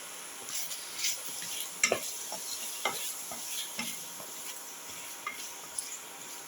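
Coriander and chili powder are sautéed in a pan for a lamb and split chickpea stew. A spoon gives soft, scattered scrapes and stirs over a faint, steady sizzle, quiet and close.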